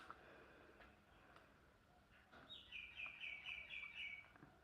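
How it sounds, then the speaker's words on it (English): A bird outdoors in the morning gives a quick run of about six bright, repeated chirps, moderately clear above faint background ambience and scattered ticking sounds. "Good morning, birds."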